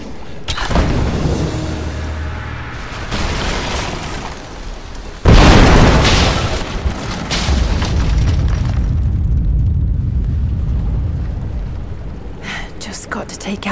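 A Greek fire explosion in Rise of the Tomb Raider erupts with a loud boom, followed by sustained rumbling fire and crumbling debris, with a low roar underneath and a character speaking briefly.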